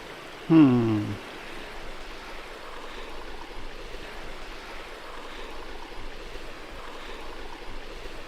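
A continuous wash of creek water flowing below a railway trestle, fairly close and even, with a brief voice near the start.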